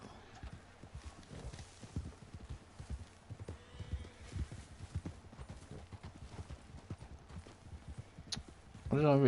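Steady clip-clop of hooves at a walking pace under a murmuring background, ending in a loud, close horse neigh, from the video game Red Dead Online.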